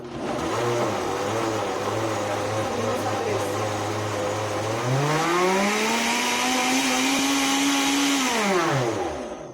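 A blender whirs loudly and continuously on hot sauce, its motor pitch rising midway as it speeds up from speed 2, then winding down at the end.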